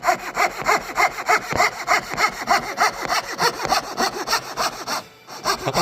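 A hand saw cuts a wooden tenon with a fast, steady back-and-forth rasp, each stroke a rhythmic scratchy rub, close and loud, with a brief pause near the end before sawing resumes.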